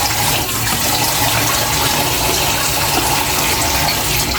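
Tap water runs steadily and loudly throughout while molokhia leaves are washed in a kitchen, a continuous gushing flow with no talk.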